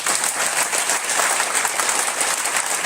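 An audience claps together in a sustained, even burst of applause, dense and moderately loud throughout, with no speech over it.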